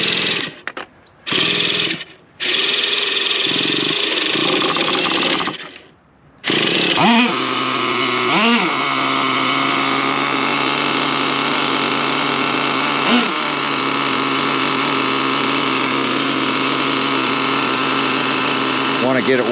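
A Traxxas T-Maxx nitro RC car engine starts after a few short bursts, then runs continuously with a loud, buzzing high-revving drone that swells with throttle blips; a voice speaks now and then.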